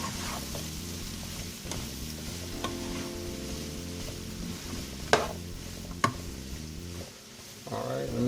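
Lasagne vegetables and garlic stirred in a pan, a close sizzle with scraping strokes and a couple of sharp utensil knocks against the pan, a faint voice underneath at times.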